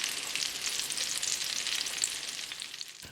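Lamb chapli kebab patties fry in a pan with a steady, dense sizzle that stays even and close throughout, with no voices.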